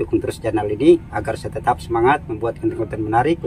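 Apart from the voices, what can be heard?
None of the usual background noises is heard.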